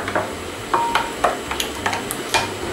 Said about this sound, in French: On mélange bien le tout ensemble.